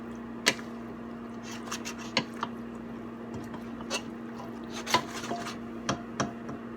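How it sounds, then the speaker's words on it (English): Cannellini and navy beans being stirred into a pan, with soft wet squishes and occasional spoon knocks against the pan over a steady low background hum. "our cannellini beans, our navy beans. Go ahead and stir that into the pan."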